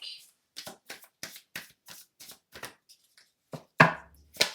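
A tarot deck is riffled and cut in a run of about nine crisp, evenly spaced card flicks, close and dry, with a brief voice near the end.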